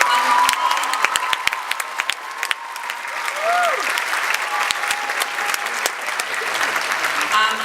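Audience applause for a performing group, dense sustained clapping with cheers and shouts from a large crowd, loud and continuous throughout, with a few voices rising above it.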